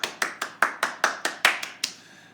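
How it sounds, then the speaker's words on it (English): One person claps hands about ten times in a quick, steady rhythm, each clap sharp and close, with no other sound between them, trailing off after the last clap. "Should I give myself a round of applause?"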